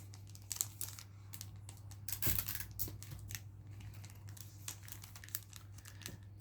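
Sticky tape crinkles and rips faintly as it is pulled and pressed onto a parcel while an order is packed, a scatter of soft crackles and one sharper tear over a steady low hum.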